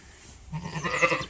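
Pregnant ewes on a farm bleat in a close, wavering call that rises after a brief quiet start, with soft background noise beneath.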